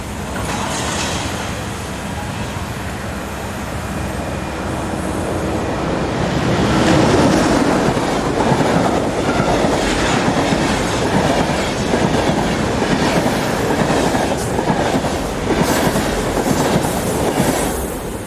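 An intercity passenger train running from Hamburg to Brieg rolls past at close range, a loud sustained rumble with rhythmic clickety-clack of wheels over rail joints that swells and holds throughout, with a brief wheel squeal.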